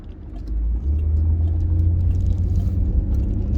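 A Buick drives along a street toward a car wash, its steady low engine rumble and road noise heard from inside the car, loud and continuous with no talk.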